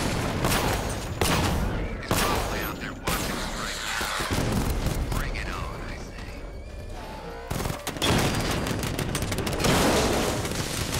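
Turret gunfire and blasts in the Batman Arkham Knight video game, bursts of dense rattling fire and booming impacts recurring throughout, loud and close, with someone talking over parts of it.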